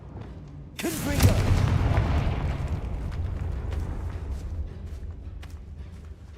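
A Confringo spell explosion in the video game Hogwarts Legacy goes off with a sudden loud boom, then a long rumbling blast that slowly fades over several seconds.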